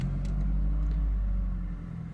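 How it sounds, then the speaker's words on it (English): A 2003 VW Golf engine is running, giving a loud, low steady rumble close by that eases slightly toward the end, with no voices. "Let me just start this thing."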